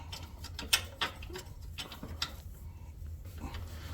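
A hand ratchet tightens a rear shock mount on a Kawasaki KRX 1000, giving quiet, irregular clicks and ticks spread across the moment against a low background hum.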